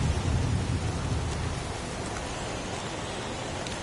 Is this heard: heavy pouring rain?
yes